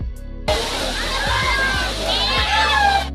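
People swim and splash beneath the cool Somnath waterfall near Mul, Chandrapur, with sloshing water and rushing spray close by; voices and a child's chatter mix in beneath the steady wash.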